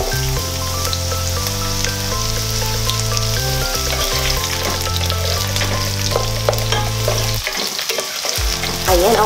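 Onion and garlic sauté in a pan for igado, a steady loud sizzle with stirring scrapes, while music plays throughout and a brief gap in the low tones comes near the end.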